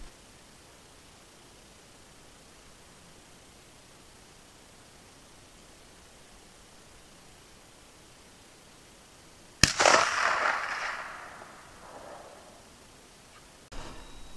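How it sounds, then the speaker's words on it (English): A single rifle shot from a Romanian AK firing Tula 124 grain hollow point ammunition at a target 250 yards away outdoors: one sharp crack followed by a fading rolling echo after a long stretch of quiet wind hiss, then a faint knock at the end. "Romanian AK, Tula 124 grain hollow point,"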